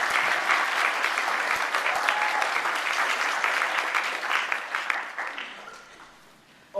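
An audience applauds the judges at a battle event, full dense clapping that holds strong for several seconds, then thins out and fades toward the end.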